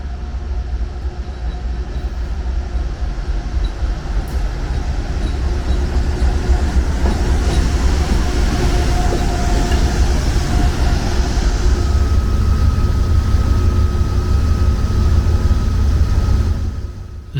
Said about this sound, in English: There's another train, I believe it's the northbound train as well, so they coordinate here at Albany by the looks of it